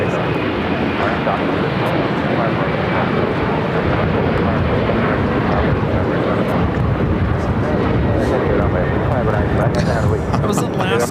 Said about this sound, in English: That was Alaska Airlines 1430 taking off to Los Cabos on the 737-900ER with the Boeing 100 years strong livery.